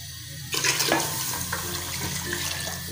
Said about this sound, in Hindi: पानी थोड़ा सा और डाल लेते हैं।